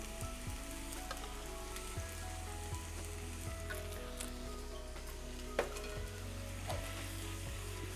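Gravy sauce in a pan on a professional chefs' competition kitchen stove gives a soft, continuous sizzle with faint scraping from stirring and a few light clicks, heard fairly quietly and without talk.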